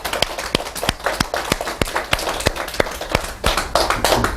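Audience applause mixed with sharp, repeated strikes of a jukbi bamboo clapper at a Buddhist dharma talk, with crisp regular cracks ringing out over steady, loud clapping.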